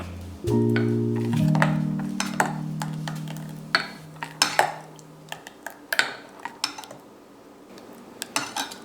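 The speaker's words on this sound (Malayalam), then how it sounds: "നന്നായി ഇളക്കി കൊടുക്കുക" A utensil scrapes and clinks against a bowl in irregular strokes, stirring Kerala otta appam batter, close and moderately loud, with a low hum early on.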